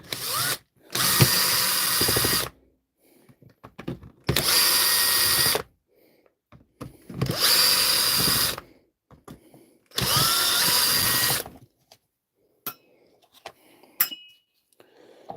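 A DeWalt DCH333 54-volt rotary hammer drill runs loud in four bursts of about two seconds each, with quiet clinks and handling noises in the pauses between them.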